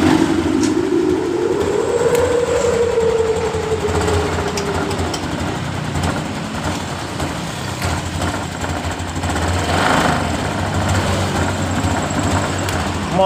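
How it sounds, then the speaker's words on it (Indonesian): A 2023 Honda Genio scooter running rough and sputtering after a spark plug change, a light engine idling unevenly close up, with a brief rising and falling rev near the start and a steady buzzing drone afterward. "Motor masih brebet juga"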